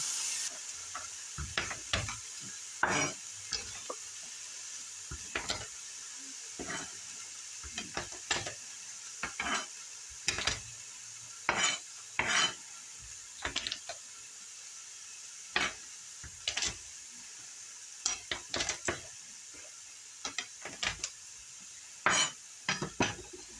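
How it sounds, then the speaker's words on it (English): Chopped onion sautés in a pan with a soft steady sizzle. A utensil scrapes and clinks against the pan again and again in short irregular strokes up close, and no one speaks. "we're just going to saute the onion until it starts to get soft"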